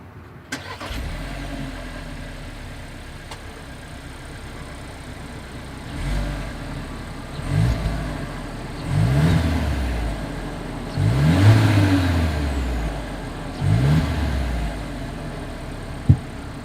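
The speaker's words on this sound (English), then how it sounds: "As always, here is that exhaust clip." A 2022 Volkswagen Taos engine idles, then revs several times in short bursts with a throaty exhaust note, close by with no talking.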